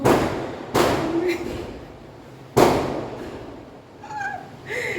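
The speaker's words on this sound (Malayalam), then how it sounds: "പടക്കം പൊട്ടിയിൽ കാരണം ഒരു വാക്കം മിണ്ടാൻ പറ്റുന്നില്ല" Two sharp firecracker bangs burst loudly a couple of seconds apart, each trailing off, with a faint voice and a cat-like cry between.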